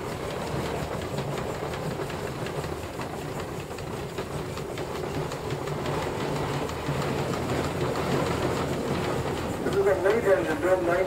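An old 19 horsepower single-cylinder engine chugs steadily at a threshing show with a rhythmic, low mechanical pulse, running continuously throughout at moderate loudness.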